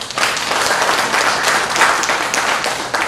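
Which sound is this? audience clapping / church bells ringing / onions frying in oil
audience clapping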